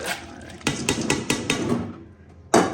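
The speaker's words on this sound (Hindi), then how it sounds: "यहाँ पे मैंने दाल धो ली है, अभी इसको ऐड करते हैं।" Washed chana dal tipped into a metal cooking pot, a quick run of clattering, scraping knocks close by, ending with a sharp clank.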